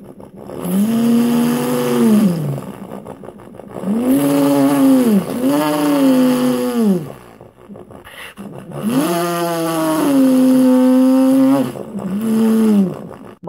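A human voice imitates a monster truck engine in three separate bursts of growling, rising and falling revs broken by short pauses, loud and close, with no other talk.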